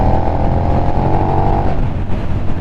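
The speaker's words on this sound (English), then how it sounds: "And you can listen to that exhaust, stock exhaust." A KTM 1290 Super Duke R motorcycle revs loudly up close through its stock exhaust, a throaty note rising, holding, then dropping back to idle.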